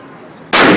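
A single very loud, close .50 caliber pistol shot from a hand cannon cracks out abruptly after a near-quiet moment and rings on through the end.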